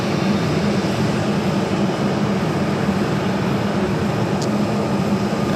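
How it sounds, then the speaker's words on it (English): An American Boeing 787 Dreamliner jet takes off, a steady, heavy engine roar filling the whole stretch with no break or clear rise in level. "Here we're looking at the American Dreamliner going to be taking off to Dallas-Fort Worth"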